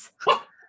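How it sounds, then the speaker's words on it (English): A single dog's bark, short and moderately close, sounding once in a quiet room without other noise. "Oh, that's my dog."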